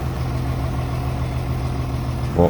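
A tractor engine idles steadily with a deep, rumbling drone on a farm during manure spreading, close and continuous throughout, with a brief rise at the very end.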